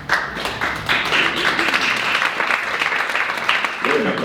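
An audience applauds after the early-music group Ensemble Sonidos de Tierra performs a cantiga of Alfonso X at a seniors' centre in December 2021: dense, steady clapping that fills the room, with some voices mixed in.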